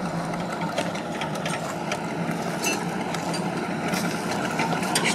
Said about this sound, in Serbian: Još mu motor radi